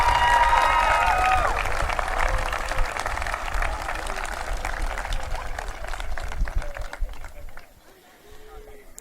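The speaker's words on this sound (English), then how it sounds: "if we could just get another round of applause for him and all our Triton singers" A high school graduation crowd applauds its singers, a dense wash of clapping and scattered cheers that gradually thins and fades toward quiet at the end.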